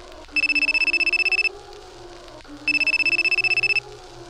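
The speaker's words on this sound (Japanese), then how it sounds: "おじの携帯が鳴った。" A mobile phone rings in two loud electronic bursts, each a rapid pulsing trill lasting about a second, separated by a short pause with faint background hum.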